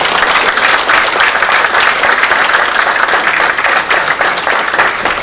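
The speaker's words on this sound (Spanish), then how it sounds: "Un aplauso y bienvenido, como siempre." Loud, sustained applause from an audience welcoming a speaker at a chemical engineering week event, a dense, even roar of many hands clapping for the whole stretch with no talking.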